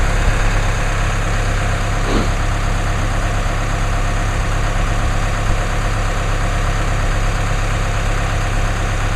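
A 2016 Chevrolet Colorado's 2.8 liter four-cylinder Duramax diesel idles after a cold start, a steady loud low clatter and hum holding even throughout, close by.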